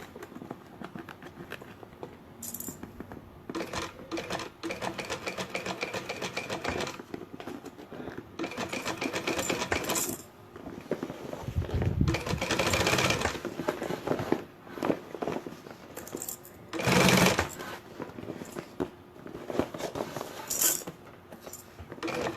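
A sewing machine stitches a sublimation-printed professional tote bag in short bursts of running stitches, with pauses and handling noise between runs, close and moderately loud.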